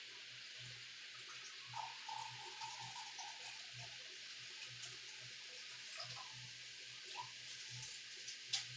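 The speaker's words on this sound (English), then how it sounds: "let's measure out our 1 cup of water" Tap water runs steadily into a measuring cup, a faint continuous hiss and splash with small bubbling changes, close but quiet and with no voices.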